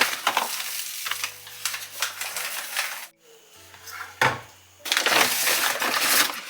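Potatoes fry in a pan with crackling sizzle and scraping stirring sounds that come in bursts, broken by a short pause and softer moments, with a low tonal hum in the background.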